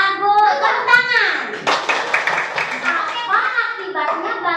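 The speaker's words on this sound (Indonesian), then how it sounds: "Tepuk tangan." A primary school class bursts into brief applause, a short clatter of clapping hands amid children's voices and teacher talk before and after.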